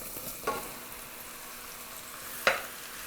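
Mushrooms go into a pot of hot, shimmering olive oil, two bursts of sizzle roughly two seconds apart over a steady low frying hiss, close by, with no talking.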